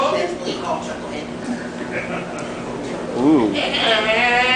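A performer on stage imitates a sheep, voicing a wavering, quavering bleat near the end after stretches of vocal noise, close and fairly loud.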